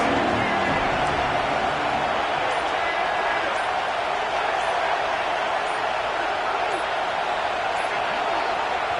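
Loud, continuous roar of a football stadium crowd at a Wolfpack versus Oklahoma State game, a dense, steady wash of cheering and noise with no breaks.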